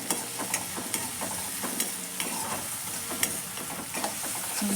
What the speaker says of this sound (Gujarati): થોડી વાર સાતળવા દઈશું.